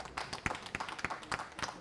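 Faint, quick clapping from an audience at a startup book launch in Abuja, a fairly brisk patter of overlapping claps heard at a distance and fading in and out.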